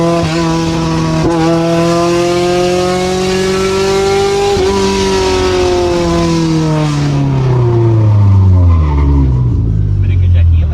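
A car with a K24 engine brakes hard and skids, a loud, close whine with strong tonal harmonics that slides steadily downward in pitch as the car slows.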